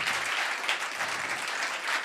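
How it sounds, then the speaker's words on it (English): Brief, steady applause at a town council meeting for young science prize winners, dense clapping at moderate volume with no pauses. "So please give a round of applause to all these fabulous young geniuses."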